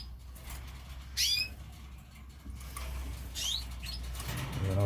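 Male canaries in a cage give brief bursts of wing flapping and fluttering, with a couple of short chirps, over a low steady background hum.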